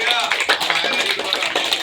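Sustained group clapping fills the air at an outdoor yoga session in Jawahar Park, Aligarh, celebrating a birthday; dense, even applause with a shrill tone on top.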